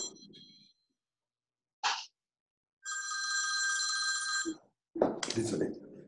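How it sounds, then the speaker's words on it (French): Telephones ringing during an online call, one sustained electronic ring alongside scattered short voice fragments before and after it. "les téléphones n'arrêtent pas de sonner"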